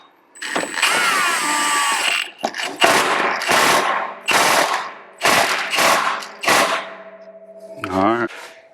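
Impact wrench tightening the primary clutch bolt on a Polaris XP 1000 Ranger, loud close rattling bursts repeated about six times in short hammering runs with brief pauses, a whine or squeal near the end.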